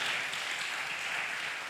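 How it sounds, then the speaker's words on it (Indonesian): A church congregation claps together during a Sunday worship service, a soft, even wash of applause lasting under two seconds, heard at a distance with no voices over it. "Tepuk tangan, haleluya."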